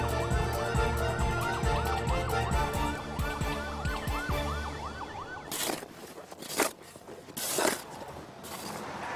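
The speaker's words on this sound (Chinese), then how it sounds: "警车来了。" A police car siren wails in a rural village comedy scene, loud and close, with its tone rising and falling over and over before it cuts off. A few sharp bangs and knocks follow.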